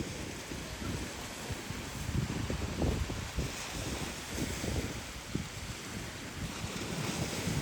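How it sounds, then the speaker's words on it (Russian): Sea waves wash steadily onto the shore, a continuous rushing surf mixed with wind buffeting the microphone, with no talking. "Это море."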